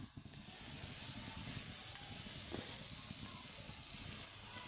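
Fish with eggplant cooking in a pan on a stove, a faint, steady hiss and crackle of frying that runs evenly for several seconds with no talking.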